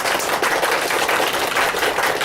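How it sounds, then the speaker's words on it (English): A seminar audience claps as fast as they can, a dense, continuous patter of many hands filling the room at steady loudness with no voices on top. "Go ahead and clap as fast as you can."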